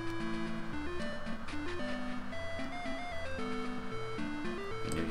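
A melody from a video game plays as video game music, a looping tune with a bouncy rhythm and a clear lead line over a steady bass that lasts the whole time.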